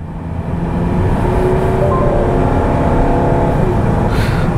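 Citroen C5 Aircross Shine, 175 PS engine, revving hard in sport mode with manual shifting held near the red line; a loud, steady engine drone sustained throughout with no talking.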